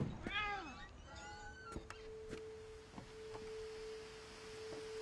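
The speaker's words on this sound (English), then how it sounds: "Oh, there is a cat." A cat meows several times in the video game What Remains of Edith Finch, a few rising and falling cries close by over a steady tone and quiet ambience, with faint clicks afterward.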